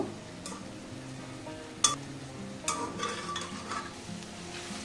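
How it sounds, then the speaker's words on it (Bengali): Mutton pieces being stir-fried with spices in a pot, a soft steady sizzle with scraping stirs and a few sharp metallic clinks of a spoon against the pot, no talking. "মটনের পিসগুলো একটু কষে নেব।"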